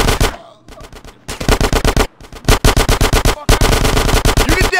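Machine gun fire in GTA San Andreas, loud rapid bursts of evenly spaced shots broken by brief pauses, close and dominant throughout.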